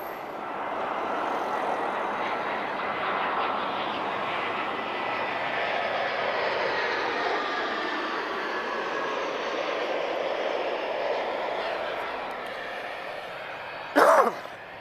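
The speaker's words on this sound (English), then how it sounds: "TP673 arriving from Amsterdam. This is an A320-214." A TAP Air Portugal Airbus A320-214 arriving from Amsterdam at Lisbon Airport passes as a loud, broad engine roar that holds steady and then slowly fades, ending with a brief clatter.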